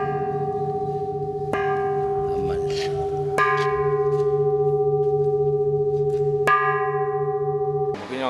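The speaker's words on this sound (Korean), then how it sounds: "종소리는 누가 언제 들어도" Large Korean bronze temple bell, about three metres tall and thirteen tons, sounding a deep sustained hum that swells with several soft strikes spaced a couple of seconds apart, resonant and close.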